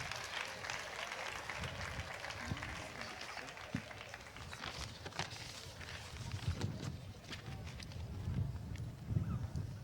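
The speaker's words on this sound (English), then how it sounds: "Let us give the Synergy Movement another round of applause for their wonderful performance." An audience applauds the Synergy Movement troupe after their performance at the opening ceremony marking the 30th anniversary of the UN Convention on the Rights of the Child, a steady wash of clapping with some voices mixed in throughout.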